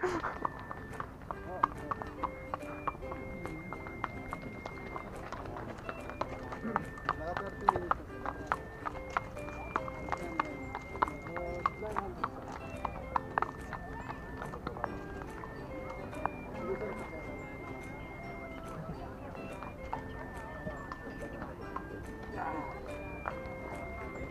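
Steady clip-clop of horse hooves during a horseback ride in Baguio, a quick regular rhythm running throughout, with people talking over it and a horse whinnying at moments.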